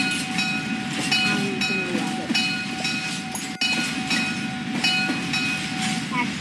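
A train in the Roblox game Mad City rolls steadily along the tracks with a rumbling, rhythmic clatter and a sustained tonal hum, heard up close.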